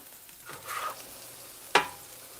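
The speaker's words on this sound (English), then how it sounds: "push the onions back to that eye and let them start browning a little bit more" Onions cooking on an outdoor flat-top griddle, a soft brief sizzle followed by a sharp scrape of a spatula, quiet and close.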